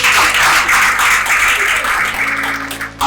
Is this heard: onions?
no